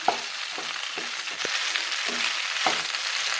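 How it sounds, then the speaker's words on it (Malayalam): Macaroni and vegetables frying in a pan, a steady close sizzle broken by repeated scraping knocks as the mixture is stirred. "മാക്രോണി നന്നായിട്ട് ഇളക്കി യോജിപ്പിക്കണം"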